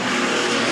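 Race cars roar past on the front straightaway of a racetrack, a dense, loud engine wash with no break in the sound.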